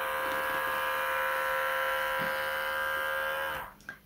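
Electric clippers shave a guinea pig's fur around a large facial abscess, a close, steady high buzz that runs continuously before cutting off abruptly near the end, followed by a couple of soft handling noises.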